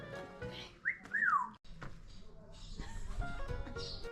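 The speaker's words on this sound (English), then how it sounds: "they had this African gray parrot, and they'd set his cage out front" An African grey parrot in a cage outside a shop in Marvão, Portugal gives two rising-and-falling wolf-whistle notes, clear and fairly close, against faint outdoor background noise and some movement.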